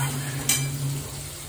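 Food frying in a pan on a gas stove gives a faint, steady sizzle under a low hum, with a brief clink around the middle.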